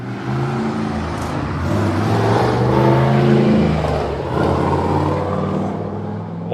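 A car with a TD42 turbo diesel engine driving past at a car meet, a loud close engine roar that swells to a peak mid-pass and then eases off, with no talking.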